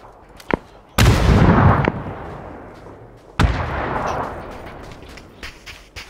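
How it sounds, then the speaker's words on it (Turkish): Two heavy grenade blasts in a combat video game, each a sudden loud boom followed by a rumbling decay, preceded by a sharp shot-like crack, with no talk over them. "Bir tane daha bomba attım"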